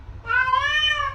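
A pet cat gives a single clear, drawn-out meow up close, rising and then falling in pitch over about a second, heard alone in a quiet room.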